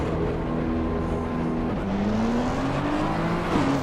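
A race car engine in Assetto Corsa Competizione drones and revs, pitch sliding down then climbing steadily through the gears, with a sharp shift near the end.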